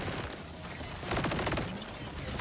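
A Maliwan Plasma Coil SMG firing in Borderlands 4, a dense rapid burst of crackling shots that swells partway through, steady and fairly loud.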